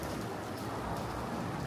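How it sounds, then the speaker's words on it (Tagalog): Steady rain hisses evenly and fairly softly in a forest at Alishan National Forest Recreation Area in Taiwan, a continuous wash with no voices. "Kasi umuulan."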